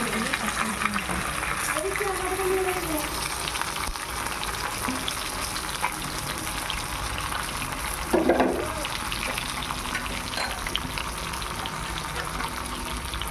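Hilsa pieces hit hot oil in a pan and fry with a steady, dense sizzle that carries through the whole stretch, with a brief louder spatter near the middle. A voice speaks over the frying.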